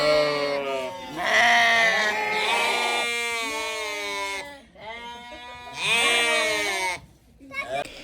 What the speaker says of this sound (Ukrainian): Це такі вівці дуже голосні, так смішно кричать. Справжнє стадо.